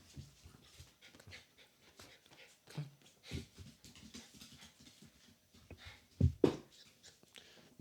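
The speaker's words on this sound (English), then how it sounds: "My dog is getting antsy." A dog pants in quick, uneven breaths with a few soft whimpers, close by and fairly quiet, with sharper louder bursts near the end and no talking.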